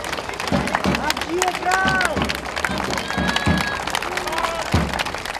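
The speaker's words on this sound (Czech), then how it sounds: "A panovníka stejně jako tehdy vítali davy lidí." Crowds welcoming King and Emperor Charles IV on a large town square in Uherské Hradiště, a steady babble of many voices with scattered cheers, claps and shouts, continuous and fairly loud throughout.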